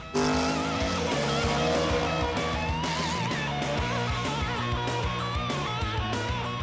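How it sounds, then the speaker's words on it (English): A Camaro drag car launches hard off the line with its tyres hazing, a loud, continuous engine roar with shifting pitch and squealing rubber that runs for several seconds without pause. "That 10-1, I nailed it, because it just hazed the tires perfect."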